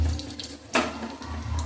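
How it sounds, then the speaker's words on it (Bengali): Water from a kitchen tap runs briefly for hand washing in a home kitchen, a short splashing burst near the middle with steady low background hum around it. "হাত ধুয়ে নিই"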